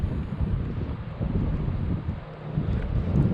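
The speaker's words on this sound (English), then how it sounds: "Very windy today too, very dirty water." Strong wind buffets the microphone outdoors beside dirty, choppy water, a steady low rumble that rises in gusts and holds for the whole stretch, with no voices.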